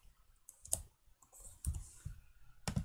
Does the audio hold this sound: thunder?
no